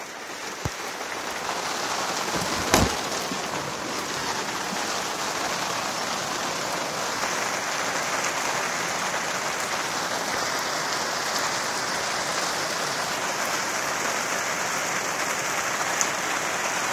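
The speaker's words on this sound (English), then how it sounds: "it's raining pretty hard out there" Heavy rain pours down steadily outdoors, a dense, even hiss of drops hitting surfaces, with a single sharp knock near the start.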